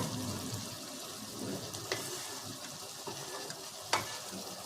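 Mutton frying in a pan in a home kitchen, heard as a steady low sizzle with occasional stirring scrapes and a couple of sharp clinks, moderately quiet and without talk.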